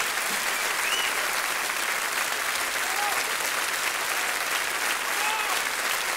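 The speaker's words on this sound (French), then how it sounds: "Continue à applaudir" Sustained audience applause at a large cabaret show after a balancing-sticks act, dense and steady throughout with faint cheers or whistles on top, heard alone without speech.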